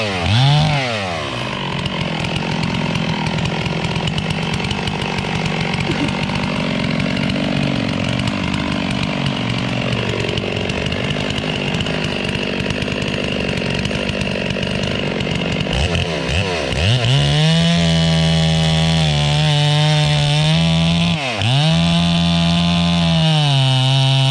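A 46-size chainsaw, standing in for a larger 66, bucks timber in conventional felling work. The engine drones steadily under cutting load for about fifteen seconds, then screams at high revs with brief throttle dips. Loud and close, with no talk.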